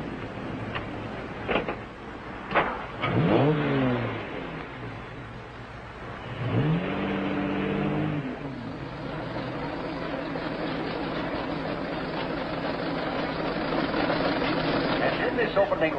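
Antique cars, including a Stanley Steamer and a Model T, racing in a 1959 film scene: steady engine drone with passing engine swells and horn-like tones, with voices talking over the vehicles.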